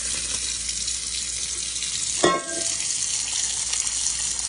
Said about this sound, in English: Now we're gonna drain these noodles.